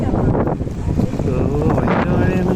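Strong wind buffets the microphone during heavy rain on a coastal trip from Attingal to Kanyakumari, a loud rumbling roar close by with surf-like swells and a voice faintly under the noise.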